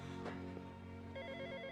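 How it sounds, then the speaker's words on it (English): Telephone ringing indoors, a warbling electronic ring that starts partway through over a low background hum, fairly faint. "as the phone rings"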